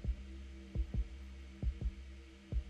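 A loud, close heartbeat from the horror video game Cardiophobia thumps in paired beats, repeating about three times over a low steady hum, with no talking.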